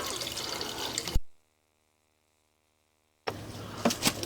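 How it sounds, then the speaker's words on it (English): Water drains down through a city sewer line beneath the street, rushing and gurgling in two close, busy bursts separated by a sudden stretch of silence. "let our water drain down now"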